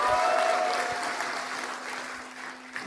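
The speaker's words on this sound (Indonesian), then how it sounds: "kita berikan tepuk tangan yang meriah." An academic audience at a doctoral defense applauds a law professor, broad sustained clapping that slowly fades over a few seconds, with a faint steady hum underneath.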